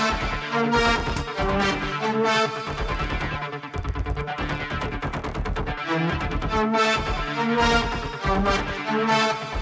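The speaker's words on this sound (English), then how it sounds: "All of the synth layers together sound like this." Layered MIDI synths from a track play together in a dense, loud wall of sound, chords pumping in rhythm as a kick drum ducks them, with no voices.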